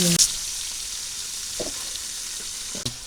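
Vegetables frying in a pan with turmeric and chilli, giving a steady close sizzle broken by a few brief clatters of stirring.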